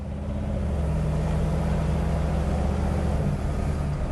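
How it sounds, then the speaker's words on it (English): A 1956 Oldsmobile 88 hardtop with a V8 engine and automatic transmission cruises on a test drive, its low steady engine drone and road rumble constant and fairly loud from inside the car, with no talking. "We're gonna go for a quick test drive."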